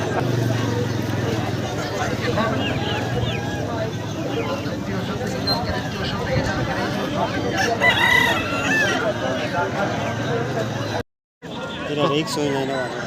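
Roosters crowing at a busy rooster market in Purulia, with repeated loud crows and clucks over a dense hubbub of crowd chatter and voices that continues almost without a break.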